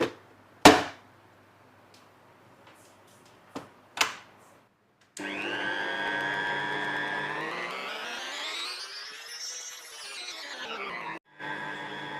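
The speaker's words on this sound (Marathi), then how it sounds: "हे पीठ मळण्यासाठी आज आपण हा अगारोचा रॉयल स्टँड मिक्सर वापरतोय." Agaro Royal stand mixer kneading dough: a few sharp clunks first, then a steady motor whine that rises and falls in pitch as the dough is worked, close and fairly loud, stopping briefly near the end.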